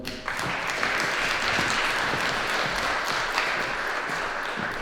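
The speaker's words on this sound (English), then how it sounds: "Please give them a round of applause." Audience applause as two young women come on stage at an event, a steady wash of many hands clapping at moderate volume, with little speech.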